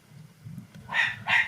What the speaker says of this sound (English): You may hear my dog, my little Jack Russell, barking.